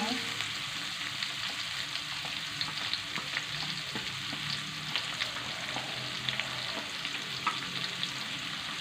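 Fried noodles with green beans, seasoned with salt and sugar, stirred in a hot pan; a faint, even sizzle with light, irregular scraping and tossing sounds throughout, no talking over it.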